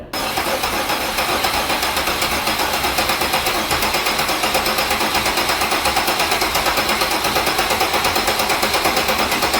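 Car engine cranking over on the starter with the injectors disabled, a fast, steady, rhythmic whirring chug that keeps going without catching, close and fairly loud.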